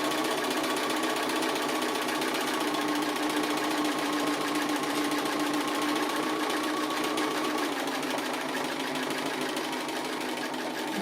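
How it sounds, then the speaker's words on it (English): A sewing machine stitching appliqué lines on a dog design runs without a break, a steady, close, mechanical whirr with a fast needle rhythm throughout. "Just stitch along those lines that we marked, and I come back along those."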